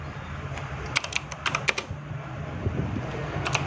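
Keys clack on a computer keyboard in short bursts, a cluster of quick taps then a pause and a few more, close but soft over a low fan-like hum.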